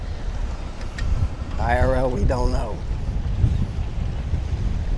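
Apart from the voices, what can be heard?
strong wind on a cruise ship deck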